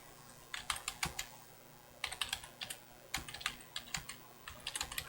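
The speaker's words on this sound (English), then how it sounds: "I'm typing into the same discussion." Fingers type on a computer keyboard in quick bursts of crisp key clicks separated by short pauses, close and fairly quiet, with no voices.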